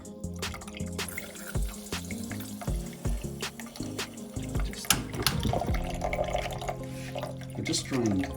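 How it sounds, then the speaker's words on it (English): Water trickles and drips from house pipes being drained after the outside hose, irregular splashing and gurgling close by, with clunks and handling noises and a voice talking over parts of it. "I just drained the hose outside, and not a lot of water came out of that, but some's coming out of this."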